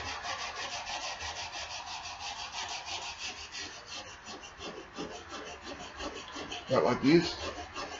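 A rusty axe cutting edge is rubbed clean during sharpening, giving steady, rhythmic scraping strokes that are close but fairly quiet, with a brief louder knock near the end and a few words spoken.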